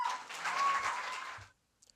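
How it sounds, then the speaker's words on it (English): Audience applause at a high school poetry competition, a short burst of clapping that fades out after about a second and a half. "everybody please give a round of applause for Abdi"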